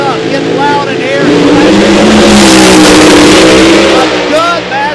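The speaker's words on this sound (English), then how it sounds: "Revs up, getting loud in here." A loud, roaring funny car drag-racing engine at Eddyville Raceway Park revs up and swells to a sustained blare before easing off slightly, close and overpowering.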